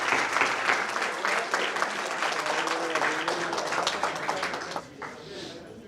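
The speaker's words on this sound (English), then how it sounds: "Can we have a round of applause for all these youngsters?" An audience applauds young speech competition participants, sustained hearty clapping from a sizeable crowd that fades out near the end.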